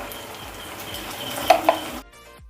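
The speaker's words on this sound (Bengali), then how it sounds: "আমি সামান্য জল দিয়ে দেব, জল দিয়ে সসটা একটু ফুটিয়ে নেব।" Sauce thinned with a little water bubbles and sizzles steadily in a pan for chicken leg fry, a close, even crackle with a couple of faint clinks before it cuts off.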